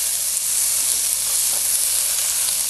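Vegetables with thyme sauté in a pan for a soup, giving a loud, even, continuous sizzle and hiss close up, with no talking.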